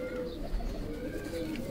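Pigeons kept as mated pairs give a low, steady cooing that runs through the whole brief stretch, close by and alone with no talk over it.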